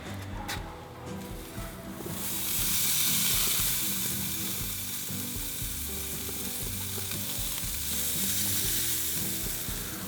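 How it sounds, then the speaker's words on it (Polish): Loud, steady sizzling of salmon pieces frying skin-side up on a very hot grill, a dense crackling hiss that swells early and holds without talk. "Smażymy najpierw skórą do góry."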